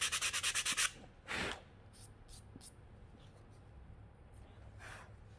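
Sandpaper scrubs a wooden pencil box flat in a quick run of about seven rhythmic strokes, followed by a longer rub and a few faint brushes, close and quiet in a still room.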